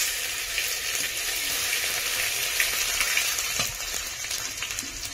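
Chopped garlic fries in hot oil for a chicken and raw jackfruit curry, giving a steady, close sizzle with scattered crackles and no talking.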